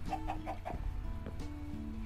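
Minecraft chickens cluck in a German let's play: short, nasal in-game clucks repeat quickly, with tonal game sounds layered underneath at a steady moderate level.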